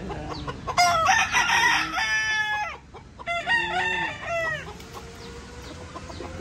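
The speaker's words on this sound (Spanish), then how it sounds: "No es grande, pero es un gallo efectivo." A home-bred fighting rooster crows loudly and close twice in succession, each crow a long, rising-and-falling call. Low clucking fills the gaps and trails off afterward.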